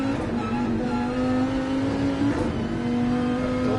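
On board a GT3 race car during a race, the engine holds a steady, loud, sustained drone with a slight rising pitch and no speech over it.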